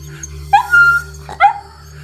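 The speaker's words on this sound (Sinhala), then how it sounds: "බල්ලා මොර දෙන සද්දය" A frightened German shepherd dog lets out two short, high whimpering cries, close and fairly loud, over a steady low hum.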